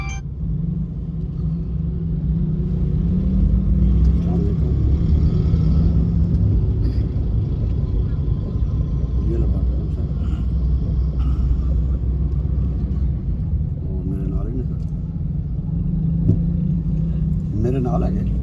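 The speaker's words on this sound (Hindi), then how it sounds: "ट्रैफिक का फ्लो देख ले, गाड़ी क्रॉस नहीं हो पा रही इस वक्त" Heavy road traffic at a congested crossing on a commercial avenue where cars cannot get across, a loud continuous rumble of engines and tyres with people talking over it.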